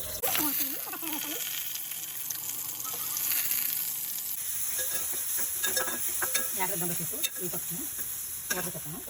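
Garlic paste and onions fry in hot oil for a fish egg and mango curry, a steady loud sizzle with intermittent stirring scrapes of a spoon against the pan.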